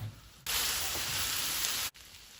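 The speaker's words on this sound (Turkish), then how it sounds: "Ciğerleri suyunu çekene kadar kavurmaya devam ediyoruz." Chicken livers sautéing for tantuni in a hot pan, a sudden, even hiss of frying that holds steady for about a second and a half, then stops abruptly.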